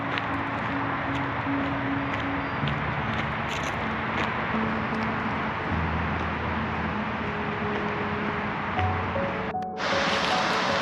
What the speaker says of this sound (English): there's some roaring water down there